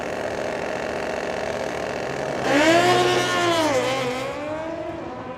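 A Harley and a Suzuki Bandit motorcycle roar off the line in a drag race at a motorsports park, engines wailing loudly with rising then falling pitch sweeps over steady crowd-level track noise, no talk.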